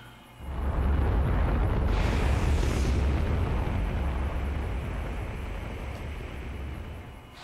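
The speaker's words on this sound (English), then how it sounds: "Let's set a rocket off in midair." A rocket set off in midair during the Risa summer event in Star Trek Online bursts into a sudden loud roaring blast that holds for several seconds, then slowly fades.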